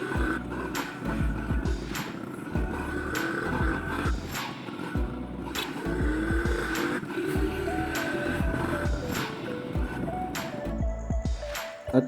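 Motorized tricycle riding along a road, its engine droning steadily and loud throughout with rattling, clinking bumps over the surface and some faint voices in the background.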